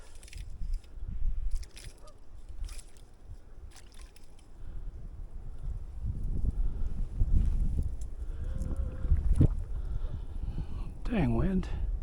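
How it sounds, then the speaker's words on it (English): Gusty wind buffets the microphone while fishing for trout on the San Juan River below the dam, with low rumbling surges that rise and fall and a faint voice-like sound near the end. "Dang wind."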